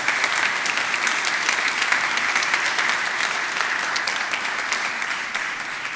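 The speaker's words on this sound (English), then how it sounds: "Let's give another round of applause to these students, to the faculty for their tremendous performances." Large audience at an arts showcase applauds students and faculty after their performances, a steady, dense wall of clapping holding strong for six seconds before easing slightly at the end.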